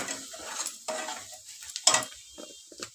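Garlic chili paste fries in a pan on low heat, with soft sizzling and a spoon stirring and scraping, sharp clinks of utensil against the pan, fairly quiet and close.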